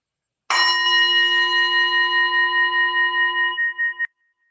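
A single bell struck once during a tai chi breathing exercise rings out clearly, its bright tone sustaining and slowly fading for about three seconds before cutting off.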